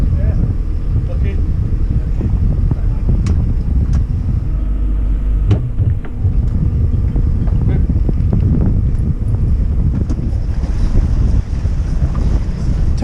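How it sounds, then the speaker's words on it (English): Strong wind roars across a small sailboat beating to windward in about 20 knots on a solo passage between the Isle of Man, Ireland and Wales. The buffeting is loud and constant, with water and rigging noise mixed in. "I'm beating to windward in 20 knots of wind"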